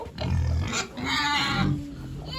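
Piglets grunting and squealing together while a sow feeds them, a busy, continuous chorus, close by and fairly loud, with no talking.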